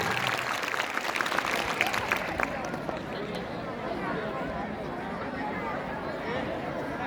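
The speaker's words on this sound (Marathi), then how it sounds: "सर्व विद्यार्थ्यांनी सर्वप्रथम उपस्थित सर्व विद्यार्थ्यांसाठी जोरदार टाळ्या वाजवून कार्यक्रमाला सुरुवात आम्ही करतो आहे" Students at a Shiv Jayanti celebration applaud loudly, a dense sustained burst of clapping that fills the hall and slowly thins, with crowd chatter and voices underneath.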